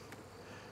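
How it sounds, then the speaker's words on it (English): A soft, steady buzz of many honey bees at a plastic hive hums faintly in the background, continuous and even. "As you can see, we got plenty of bees here."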